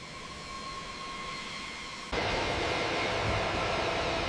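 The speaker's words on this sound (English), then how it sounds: "The first bomber begins its taxi, engines venting as it moves toward the runway." US B-52 bomber jet engines whine and roar steadily while the heavy aircraft taxis toward the runway, a sustained near rumble that suddenly grows louder and broader midway through.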